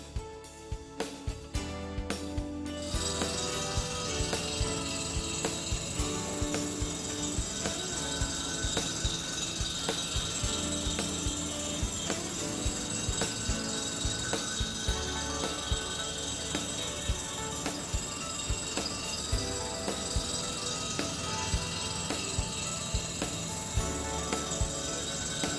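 Model 555 spin and relief reel grinder spin-grinding a greens mower reel, a continuous bright metallic grinding whir with a fine repeated ticking texture, steady and close, after a few sharp clicks at the start.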